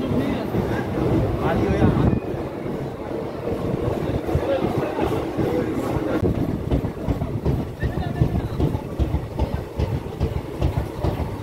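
A Kolkata to Digha special train, 03161, rolls into Bagnan station with a steady rumble and rhythmic clickety-clack of wagons close by, with passengers talking over it.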